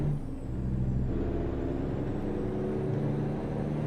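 A Cat 15 semi-truck engine in American Truck Simulator runs with a steady, loud low rumble and drone, holding an even level throughout with no talk over it.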